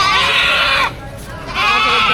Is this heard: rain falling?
no